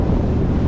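Steady wind buffeting the microphone by the sea near a boat in Surigao, a continuous low rumbling roar with no breaks through the whole short stretch.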